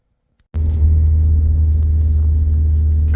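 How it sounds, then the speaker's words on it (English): An Alfa Romeo 916 GTV drives slowly through suburban streets. Its engine gives a steady, deep rumble from inside the cabin that starts abruptly and holds even throughout, with no voices. "I've been driving around for a couple of minutes now. I have to drive slowly, unfortunately. I'm in suburban streets."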